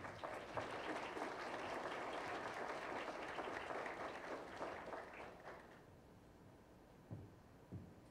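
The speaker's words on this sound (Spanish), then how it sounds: "Demos un fuerte aplauso a nuestro conferencista." A lecture audience at a formal conference on notarial instruments gives sustained applause, dense and fairly distant, fading after about six seconds into room quiet with a couple of soft knocks.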